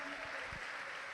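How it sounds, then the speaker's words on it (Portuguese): A church congregation applauds during a sermon, producing a faint, steady wash of distant clapping over a brief stretch with a low background hum. "Vamos aplaudir a Cristo"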